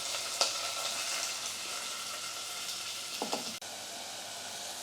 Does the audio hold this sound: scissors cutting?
no